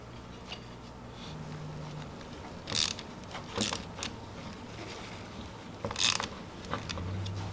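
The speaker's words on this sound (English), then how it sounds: "I got the whole thing bolted up." Faint mechanical clicks and short ratcheting bursts sound while a 2010 Jeep Wrangler JK manual shift knob and bezel assembly is bolted up, a few separate tool sounds over quiet room noise.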